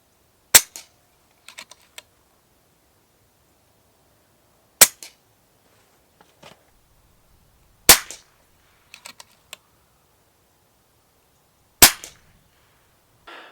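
Four sharp, muffled shots from a suppressed FX DRS Classic .22 air rifle, spaced a few seconds apart, each followed by a faint pellet impact, in otherwise quiet surroundings.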